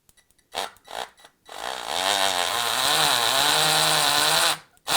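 A few short bursts of a cordless drill, then a sustained high whine with shifting pitch as it bores steadily into a wall, stopping abruptly.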